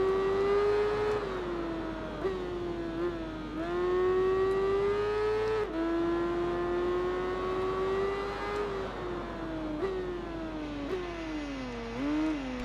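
A motorcycle engine in the racing video game Tourist Trophy wails at high revs, its pitch rising and dropping through gear shifts and corners, loud and continuous with no talk.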